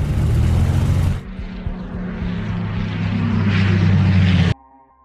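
Propeller aircraft engine drone passing overhead in a wartime Dunkirk film scene, loud and sustained with a steady low hum and rough broadband roar, dropping in level midway, then cutting off abruptly near the end.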